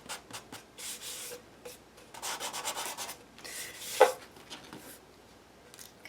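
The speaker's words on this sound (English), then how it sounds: "a little bit of scratching on the image with the sandpaper" Sandpaper rubbing and scratching over a vintage paper image in a mixed-media piece, a close series of dry, rasping strokes that vary in length, with one sharper scrape near the middle.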